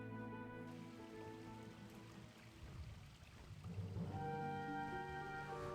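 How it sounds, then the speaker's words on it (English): Rain falls in the aerial jungle of the video game Wizard101 as a steady soft patter over a sustained tonal music bed, moderately quiet and continuous throughout, with no voices. "Wow, it's all rainy over here."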